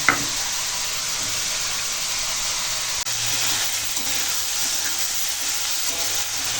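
Tender okra sizzling steadily in a hot pan, a constant bright hiss with a faint clatter near the start and a brief stir midway.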